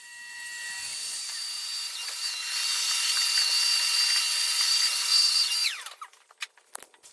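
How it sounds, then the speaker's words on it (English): A table saw rips a piece of scrap wood down to 5/8 inch, a steady high whine that builds as the blade cuts, then winds down and stops, followed by a few faint knocks. "So now that we have it ripped down to 5/8 of an inch"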